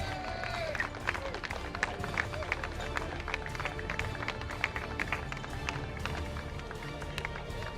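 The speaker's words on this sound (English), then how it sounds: "a round of applause for Mohammed" Scattered applause from a crowd at a karting race prize ceremony honours the junior category winner, a steady patter of claps with murmuring voices under it, moderately loud throughout.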